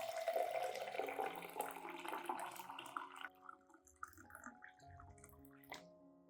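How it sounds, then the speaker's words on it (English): Hot water pours steadily into a glass cup holding rice, a loud continuous splashing stream for about three seconds that then thins out into softer trickles and drips. "Then add 500 milliliters of hot water"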